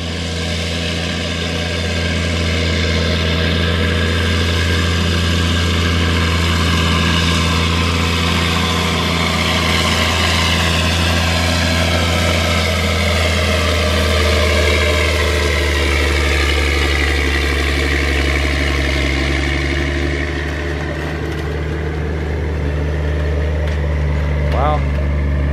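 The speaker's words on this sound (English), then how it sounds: "Kind of hard to hear with this big tractor here working up the track" A big tractor works up a pulling track at Kawartha Downs near Peterborough, Ontario, its heavy engine droning loud and steady throughout with a deep low rumble, while a voice talks over it.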